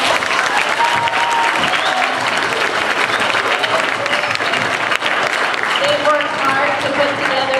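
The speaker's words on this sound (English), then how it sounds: "Can we give them a round of applause?" Sustained audience applause for sixth grade teachers and staff at a sixth grade completion ceremony, loud and dense throughout, with crowd noise and a few voices mixed in.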